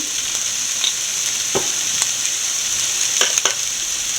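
Onion, ginger and garlic sauté in a pan with a dusting of turmeric powder, giving a steady close hiss with a few sharp spatula scrapes and clicks scattered through it.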